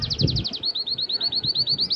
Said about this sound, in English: Look at that little bird.